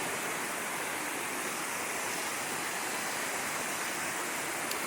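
Waterfall flowing from a cave in Decorah, Iowa, a dense, even roar of rushing water that holds constant throughout, close and moderately loud with no other sounds.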